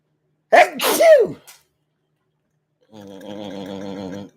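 Two loud sneezes in quick succession, then silence, followed by a steady tonal hum or drone that continues to the end.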